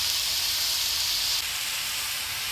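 Hot tempering oil sizzles steadily as turmeric and salt go in for a Bengali dish of taro and water spinach stems, a close, loud continuous hiss that drops slightly partway through.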